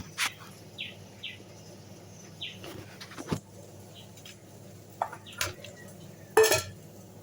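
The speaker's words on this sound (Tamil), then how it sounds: "இப்போ இதில் சிக்கன் எடுத்து போட்டு கலப்போம்" Chicken pieces stirred into a homemade spice paste for chicken 65, giving soft intermittent clinks and scrapes of a spoon against a bowl, with a few short bird chirps faintly in the background.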